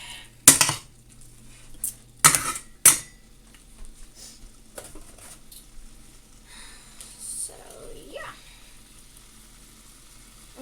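Utensil scrapes and clanks as seasoned food gets stirred in a pan while cooking lunch, a few sharp clatters early on, then softer scraping and a faint sizzle.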